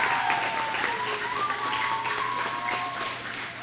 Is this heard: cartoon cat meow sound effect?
no